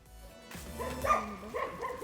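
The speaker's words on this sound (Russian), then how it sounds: "много собачек, которые его охраняют" Dogs guarding a bridge under reconstruction in Sofiyivka Park, Uman, Ukraine, giving a few short yips and barks, moderately close, with brief pauses between them.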